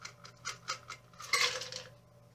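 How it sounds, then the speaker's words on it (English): Ice cubes drop into a cocktail glass in a quick series of faint, bright clinks and rattles, ending in a louder jumble of clattering cubes, with no talking. "just top it off with the rest of the ice in there"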